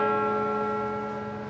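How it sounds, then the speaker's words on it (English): Church bells of St Paul's Cathedral ringing out over London, a single sustained resonant bell tone with rich overtones, slowly decaying and heard alone. "Very lovely to hear the bells ring over London."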